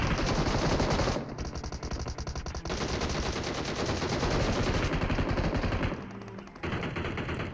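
Sustained automatic gunfire in the mobile shooter BGMI, loud dense bursts with short pauses between them and no talk.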